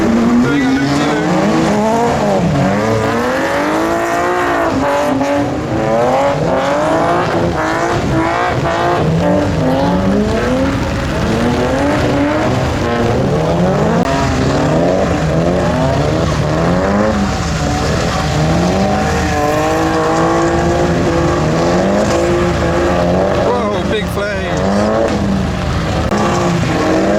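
Four tuner cars drift in tandem around a loop, engines revving hard with continuous loud tire squeal and skidding, sustained and close throughout.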